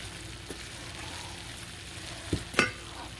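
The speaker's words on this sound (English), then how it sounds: "Give it one more stir and just remove it from the stove." A spatula stirs sprouted moong dhal thoran in a pan over a faint, steady sizzle, with a soft scrape early on and two sharper scraping strokes close together near the end.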